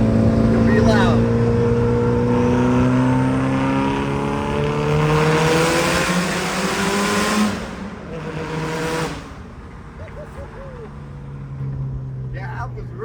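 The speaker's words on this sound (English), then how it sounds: "We're gonna get a exhaust note for you guys. It'll be loud." Loud Mitsubishi Evo exhaust note echoing through a tunnel, a rising engine roar that climbs in pitch, then cuts off abruptly before a quieter, reverberant tail, with people talking over it.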